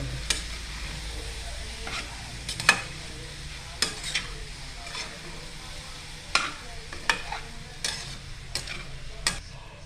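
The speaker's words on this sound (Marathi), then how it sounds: "त्यात आपण एकत्र करून घेऊ, मिक्स करून घेऊ, ढवळून घेऊया" Poha and peas being mixed in a pan over a faint background sizzle, with intermittent sharp scrapes and taps of a spoon against the pan at irregular intervals.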